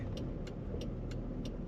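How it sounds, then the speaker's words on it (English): A black 2001 Chevrolet Corvette coupe with low mileage driving along, a steady low engine and road rumble from inside the car with a faint periodic ticking over it. "Today we're taking a ride in a 2001 Chevrolet Corvette, black on black."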